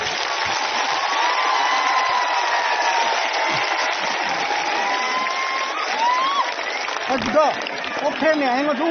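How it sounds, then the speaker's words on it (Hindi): An audience applauding a senior singer at a live event, steady sustained clapping filling the whole stretch, with someone talking loudly over it and crowd noise beneath. "सबसे बड़ा ताली आपको होना चाहिए।"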